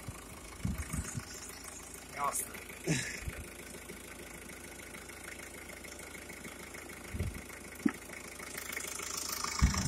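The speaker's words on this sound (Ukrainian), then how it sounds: "Ну от моторчик працює." A Renault Megane engine idles, viewed with the hood open: a soft, steady low hum runs throughout, broken by scattered clicks and knocks from nearby handling, and grows louder toward the end.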